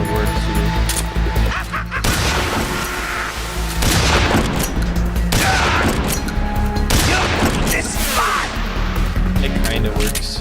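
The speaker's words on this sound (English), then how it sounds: "Let me say a shotgun would work too." Repeated shotgun blasts and explosive booms in the stealth action game Metal Gear Solid 3, loud and dense over a busy game soundtrack, with a voice talking over parts of it.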